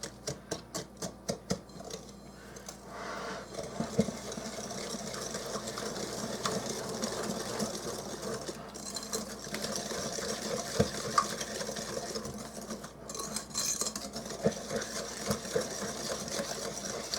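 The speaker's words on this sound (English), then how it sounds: "I'm just going to whisk that together." Peanut butter swirl brownie batter whisked by hand in a bowl: a quick, rhythmic clatter at first, then continuous, close scraping and stirring with no voices.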